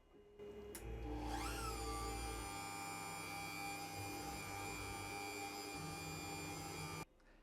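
A Sainsmart Genmitsu ProverXL 2x2 CNC router begins a slow, shallow test cut in MDF: the spindle spins up to a rising whine, holds a steady high hum with a low motor drone, then cuts off abruptly.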